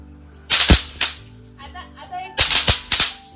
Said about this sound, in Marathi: सगळे मिळून आता फटाके फोडत आहेत